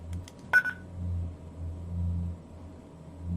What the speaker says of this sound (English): if you finish the transmit, you hear the private tone